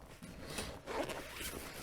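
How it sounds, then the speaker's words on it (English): A zipper on a backpack's shoe compartment pulled open in a few quick close raspy strokes, loud and alone with no speech. "Yeah, the zipper right there."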